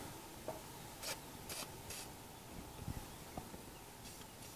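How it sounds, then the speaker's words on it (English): Liquid Wrench penetrating oil sprayed onto radiator bolts, heard as several short, quiet hissing spray bursts spaced about half a second apart, then one more faint burst, with light taps in a hushed space. "let's see if we can get a little liquid wrench around these"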